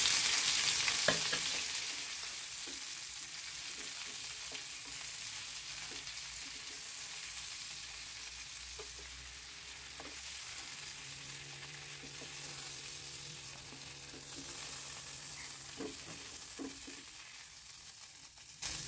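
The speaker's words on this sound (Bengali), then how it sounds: "এগুলোকে আমি হালকা করে একটু ভেজে নেব" Giant freshwater prawns sizzle in hot mustard oil in a pan for a prawn korma. The frying crackles steadily throughout, with occasional sharper pops and stirring clicks, and no voices.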